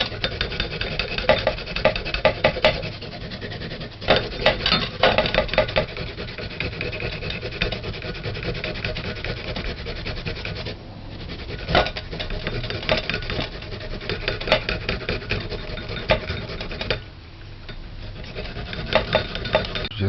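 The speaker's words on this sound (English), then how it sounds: "So I'm gonna grate it." Hand grating an ingredient for Jamaican bulla buns, a steady close-up rasping scrape repeating in back-and-forth strokes with brief pauses, no talking.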